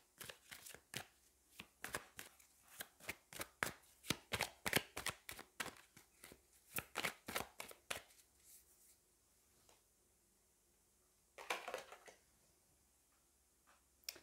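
Oracle cards shuffled by hand in quick rhythmic bursts of crisp flicking taps, pausing partway, followed by a brief final flurry as a card is drawn.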